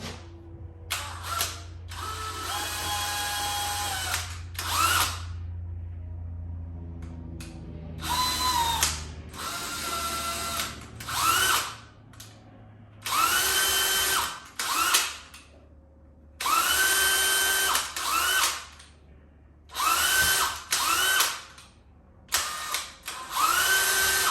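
A drill whirs in repeated bursts, revving up and stopping over and over as holes are bored into a shoe sole, close and loud with brief pauses between runs.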